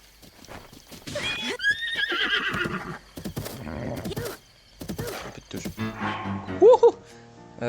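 A horse in Zelda: Breath of the Wild whinnies and snorts, with a sharp high neigh near the end, mixed with game sounds and a player talking over it.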